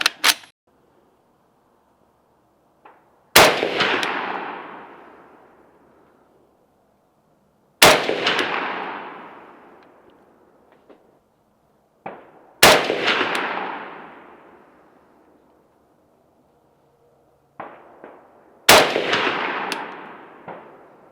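Single rifle shots from a Type 81 SR Dragunov fired at a 100-yard range, five sharp loud cracks spaced several seconds apart, each with a long decaying echo.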